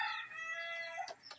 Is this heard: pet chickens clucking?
yes